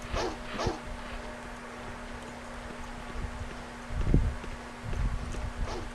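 Dogs in the survival horror game Alone in the Dark let out a few brief barks and growls, quiet and spaced apart over a low steady background hum, with no talking.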